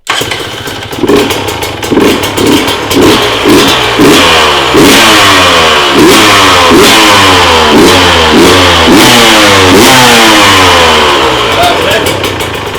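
An enduro motorcycle engine starts and revs, rising and falling in repeated bursts before settling into a loud, close, steady roar, with a person talking over it.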